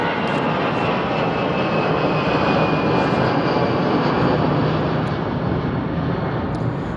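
Jet airliner climbing out overhead after departure from London Heathrow Airport, a loud, steady broadband engine roar filling the whole stretch with a faint high whine riding on top, no voices.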